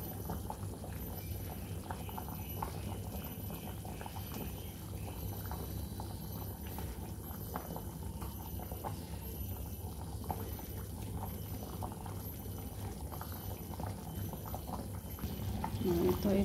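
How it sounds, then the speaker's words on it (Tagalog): Beef soup stew with cinnamon bubbling in a pot, a steady close, low simmering rumble and burble that runs the whole time and swells slightly at the end. "Sarap-sarap ng kulo niya ng ating beef soup."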